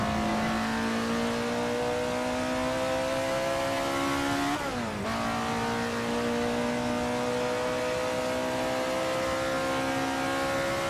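An Alfa Romeo 33 Stradale in Assetto Corsa screams at around 8,800 rpm beneath a banked track, a loud sustained engine howl that falters briefly with a gearshift midway, then climbs again.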